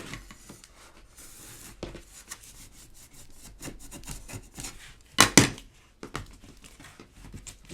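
A big spatula presses and rubs paper down onto a folio craft project as soft, close scraping strokes, broken by a couple of sharper taps. No one talks.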